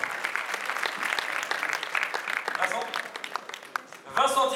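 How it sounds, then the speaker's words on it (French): Audience applause in a hall at a combat-sports champions' evening honoring a full-contact and light-contact cup winner, steady clapping that thins briefly before an announcer's amplified voice cuts in at the end. "applaudissements pour Lider Domnez"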